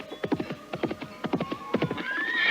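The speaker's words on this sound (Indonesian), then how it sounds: "terdengar suara derap seekor kuda dari kejauhan" A single horse trots in steady, rhythmic clip-clop hoofbeats that grow louder toward the end, followed by a rising whinny.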